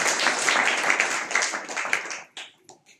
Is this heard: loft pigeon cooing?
no